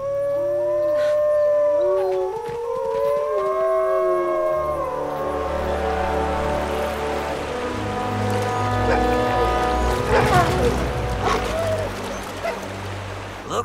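Cartoon wolves howling, several long rising and falling howls overlapping at first, then fading into a thicker background of music and other sounds.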